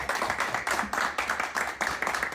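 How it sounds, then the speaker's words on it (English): An audience claps together in a hall at a homecoming event, a fairly close, steady patter of many hands in rhythmic pulses, as if clapping along in time. "Round of applause for Annette Tamm."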